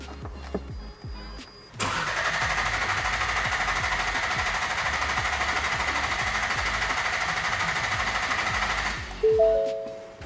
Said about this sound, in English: it will crank over without firing.